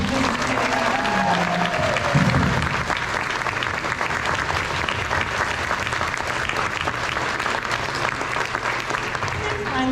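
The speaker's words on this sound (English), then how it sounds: "Please, let's give them one more round of applause." Sustained, dense applause fills a summer band camp concert hall, loud and continuous for ten seconds, with a brief voice and some crowd murmur mixed in near the start.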